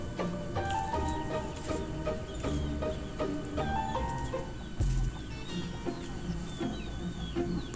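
Free-range Black Australorp chickens on a backyard farm cluck and murmur continuously nearby, with overlapping calls and occasional louder squawks over a busy outdoor background.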